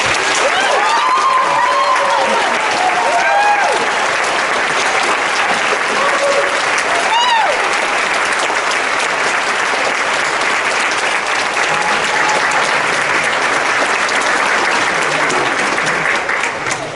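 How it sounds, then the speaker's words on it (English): A theater audience at a high school band spring concert gives long, sustained applause, a dense, even roar of many clapping hands with scattered voices, loud throughout. "could you give him an enormous round of applause?"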